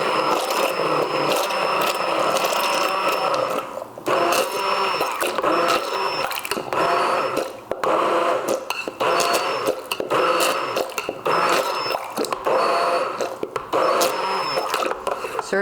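A countertop blender whirs loudly in repeated pulses with short pauses between bursts, mixing a thick batch of homemade hot-process liquid laundry soap. A voice talks now and then over the motor.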